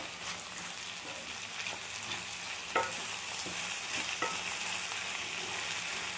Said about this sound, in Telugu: చింతపండు, వేసి కలపెడదాం